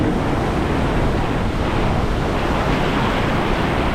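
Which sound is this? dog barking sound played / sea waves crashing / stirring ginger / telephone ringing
sea waves crashing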